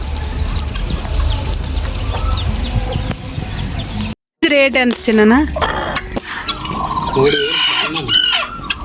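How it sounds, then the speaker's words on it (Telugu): Village chickens cluck and crow repeatedly close by, hens and a rooster layered over steady farmyard noise, with a brief dropout midway and people talking over the birds. "కోళ్ళు పక్కన,"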